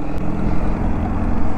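A motorcycle exhaust idles or runs steadily close by, a deep continuous low rumble with even pulsing and no voices over it.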